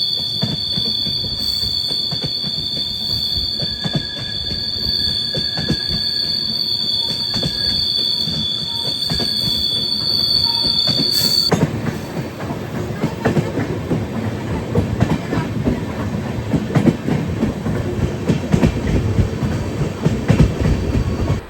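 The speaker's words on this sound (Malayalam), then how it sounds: "അതാണ് ഈ ട്രെയിൻ പയ്യെ പോകുന്നത്." An LHB-coach Guruvayur–Madurai Express rolls slowly around a sharp uphill curve, wheels squealing in a steady high tone for the first half over a continuous rumble, then the squeal drops out, leaving rattling clatter and rumble.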